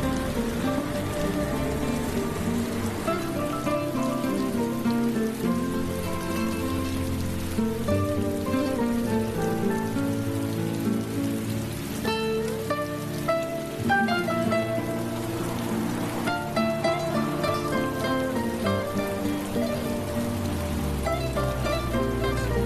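Rain falling outdoors in a city near a bus stop: a steady, even patter that continues without break, blended under a sustained musical score.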